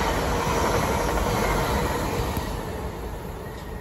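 A Class 800 IET train passing through Ealing Broadway station at night, a loud, close, steady rushing roar with rail rumble that slowly eases as it goes by.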